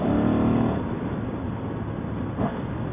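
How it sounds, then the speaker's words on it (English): A Ducati Monster motorcycle engine runs during a morning commute, a steady close rumble with a slight swell near the end, heard with no talking. "This motor does sound nice"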